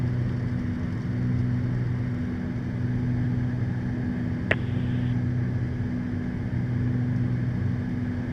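The twin propeller engines of a Beechcraft G58 Baron drone steadily inside the cabin, a constant, even hum that stays level throughout with one brief click partway through.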